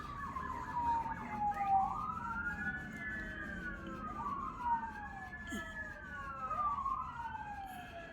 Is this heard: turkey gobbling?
no